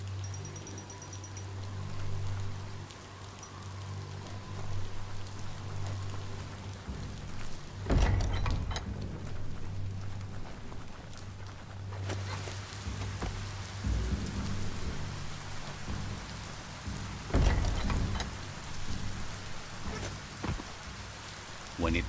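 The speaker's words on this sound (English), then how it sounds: "When it rains, it gets wet." Steady rain falling in the video game Biomutant, a constant wash of drops with a few louder crackling bursts like distant thunder or heavier splashes, sustained throughout.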